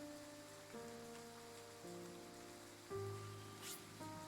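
Rain falling in a video game, a soft steady patter under faint layered low tones, quiet and continuous with no talk.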